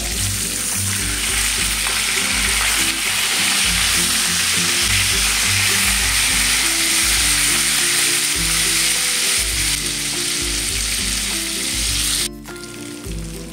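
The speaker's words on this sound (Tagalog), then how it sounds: "Hintay lang po natin maluto po yung isda." Lapu-lapu grouper fish frying in a pan, a loud, dense, continuous sizzle of hot oil that holds steady for the whole stretch and drops off briefly near the end.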